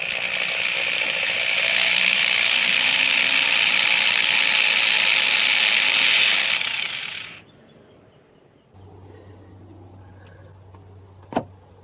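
A power drill drives tiny screws through Formica into a van panel, giving a loud sustained whine for about seven seconds, then stopping, followed by quieter handling noise and a couple of faint clicks.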